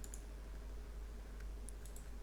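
A few sharp, faint computer mouse clicks tap out near the start and again toward the end over a low steady hum.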